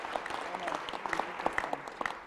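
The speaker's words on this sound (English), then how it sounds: "Give Truman a round of applause." An audience at a college convocation applauds, a soft spread of many scattered hand claps, moderately distant and steady for a couple of seconds.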